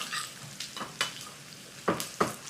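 Garlic and dry red chilies crackle in hot oil for a dal khichdi tempering, with short sizzling bursts and a few spoon stirs in a quiet kitchen.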